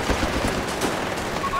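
Machine gun fire in the WWII strategy video game Company of Heroes 3, dense rapid bursts of gunfire filling a short, loud stretch, with a voice briefly talking underneath.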